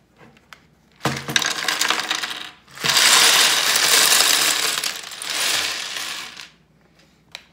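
Loud, busy clattering of many LEGO bricks from a Harry Potter Hogwarts Castle set being rummaged and sorted in two long bursts, with a few isolated clicks before and after.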